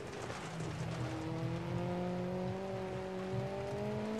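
Rally car engine droning steadily in DiRT Rally, its rising harmonic tone climbing as the car accelerates along a muddy stage, with faint tire noise underneath and no talking.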